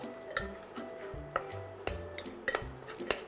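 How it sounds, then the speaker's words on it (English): Tomatoes cook down in a pan for dal makhani, heard as a quiet, low sizzle broken by repeated clinks and scrapes of a spoon stirring against the pan. "I'm going to saute until the tomatoes become nice and mushy and soft"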